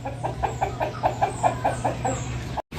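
Repeated short clucks from backyard chickens in a steady rhythm, fairly close, over a low constant hum, with no talking.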